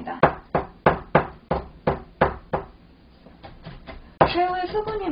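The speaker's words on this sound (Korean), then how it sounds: "그냥 저희가 야채 다지는 것처럼 새우를 다져주시면 됩니다" A knife chops shrimp on a cutting board in a steady run of about a dozen sharp, close knocks, then softer taps, before a voice starts talking at the end.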